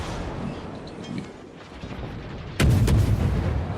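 Naval gunfire in World of Warships, a destroyer battle: low rumbling ambience with a few soft distant thuds, then a sudden loud booming salvo that keeps rumbling to the end.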